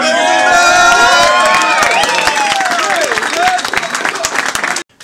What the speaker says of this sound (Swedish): Ja, applåd.